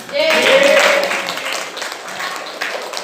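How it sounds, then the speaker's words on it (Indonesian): Classroom clapping during a micro-teaching lesson, a short burst of many hands applauding together, moderately loud and fading over a few seconds, with voices mixed in. "tepuk tangan"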